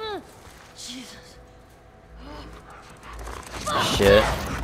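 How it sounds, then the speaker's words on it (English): A dog attacks in The Last of Us Part II, with snarling and panting breaths that grow louder and more frantic toward the end while someone talks over it. "Shit. Stupid dog."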